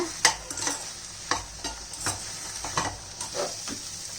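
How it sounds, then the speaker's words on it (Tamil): Repeated scraping stirs of a utensil through salted vegetables frying lightly in a pan for sambar, over a steady sizzle, with irregular clanks spaced about half a second apart. "இப்போ இது லைட்டாக ஃப்ரை பண்ணிக்கோங்க"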